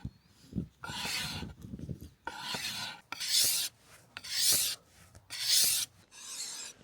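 Sharpening the deep bevelled edge of a hide fleshing tool, with repeated rough rasping strokes dragged along the metal edge, roughly one pass per second with short gaps between, close and moderately loud, with no talking.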